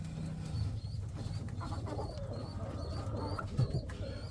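Pigeons coo softly and repeatedly at close range, the low murmuring calls overlapping with faint chirps and light rustling in the background.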